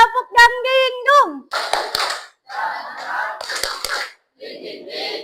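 A class plays the "tepuk dang ding dung" clapping rhythm game, with a few sharp, isolated hand claps punctuating lively group chanting and a leading voice in short call-and-response phrases.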